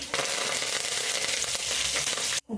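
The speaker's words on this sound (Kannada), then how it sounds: "ಆದಮೇಲೆ ಇಷ್ಟು ಕರಿಬೇವು ಹಾಕ್ಕೊತಾ ಇದ್ದೀನಿ" Curry leaves tossed into hot oil for upma tempering crackle and sizzle loudly and continuously at close range, a dense frying hiss that cuts off abruptly near the end, with no voices.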